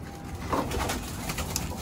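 Pigeons, newly bought racing birds, coo softly nearby in a low, murmuring warble over faint background noise.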